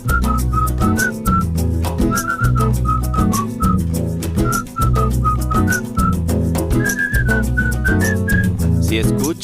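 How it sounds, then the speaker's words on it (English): Whistling carries a cheerful song melody over a steady acoustic guitar and bass accompaniment, the whistled line bright and prominent in short repeated phrases. "You all can siblar la melodía también, or whistle the melody too if you want to."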